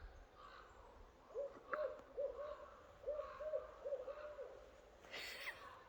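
An owl hoots in woodland, a series of soft, evenly spaced calls repeated over several seconds at moderate distance, fading out before a brief rustling burst near the end.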